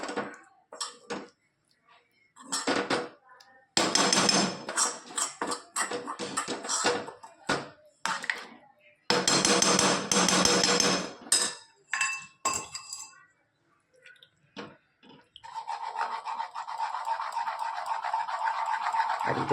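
A spoon scrapes and clinks against a pan as a roasted besan and methi mixture is stirred round, in irregular bursts with pauses, followed by a steady sizzle toward the end.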